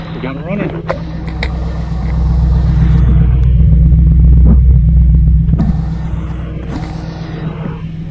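A Chevrolet Camaro SS engine idles loudly with a deep steady rumble that swells briefly before settling, while a person talks over it.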